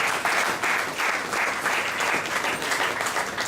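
Church congregation clapping loudly and continuously, a dense sustained applause with a slightly pulsing rhythm, close and filling the room.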